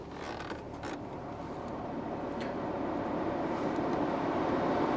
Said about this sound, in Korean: 에어컨 한번 틀어볼게요.